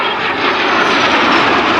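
A small jet rolls through a barrel roll in front of the crowd line at the Culdrose Air Day display, its engine roaring as a loud, steady broadband rush with no talk.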